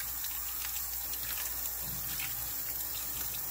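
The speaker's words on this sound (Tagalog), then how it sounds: "Pag niraran mo ng tubig kasi habang naglilinis ka," Running water from a tap pours steadily while a fern is cleaned, a continuous bright splashing hiss that stays even and close throughout.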